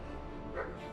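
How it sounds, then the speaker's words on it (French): Several dogs yip and bark faintly as they set upon a man in a documentary scene about Ivan the Terrible, a brief muffled burst rising midway over a low steady background. "Les chiens se jettent sur le bourreau du jeune Ivan et le mettent en pièces."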